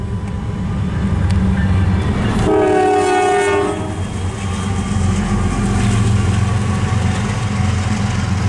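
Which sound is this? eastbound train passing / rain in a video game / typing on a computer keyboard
eastbound train passing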